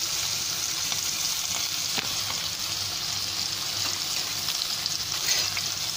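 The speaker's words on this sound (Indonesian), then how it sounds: "Goreng ikan" Fish sizzles steadily in hot oil in a pan, mackerel and snapper cooked whole for a Malay soy-sauce dish, a loud continuous crackle with no voices.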